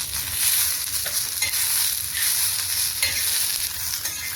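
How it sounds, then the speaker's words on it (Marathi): Green chillies and garlic roast in a pan for Maharashtrian thecha, giving a continuous close sizzle and crackle with periodic stirring scrapes and no talk. "मिरच्या छान भाजून घ्यायच्या आहे। त्यामध्ये लसूण टाकून घेते।"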